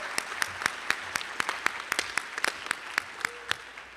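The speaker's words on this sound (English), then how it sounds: "Give him a round of applause." Applause at a high school awards night as a student steps forward, with sparse individual claps rising and falling at moderate distance, some louder sharp claps standing out.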